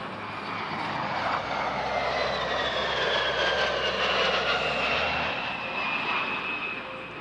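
A NASA SOFIA airborne observatory, a Boeing 747SP, roars past at an airshow at Edwards AFB, its broad engine noise steady and loud with a whining tone sweeping slowly downward as it passes.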